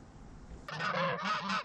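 Pet geese honk loudly and close by, a sudden burst of several overlapping nasal calls after a brief quiet moment.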